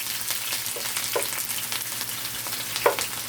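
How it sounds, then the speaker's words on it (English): Chopped onion and green onions frying in hot oil in a pan, a steady soft sizzle with occasional louder crackles and pops, close by with no talking. "So put in the onion and the green onions right now,"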